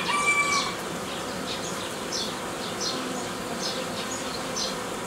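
Honeybees hum steadily around a queen at the hive, a dense close buzz with faint higher whines passing in and out, no voices over it.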